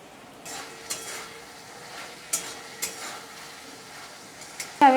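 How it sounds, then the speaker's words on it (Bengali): Fish curry with spices is stirred and sautéed in a pan, giving a soft steady sizzle broken by a few sharp scrapes and clinks of a utensil against the pan, ending in a louder clatter. "আমি কষিয়ে নিচ্ছি।"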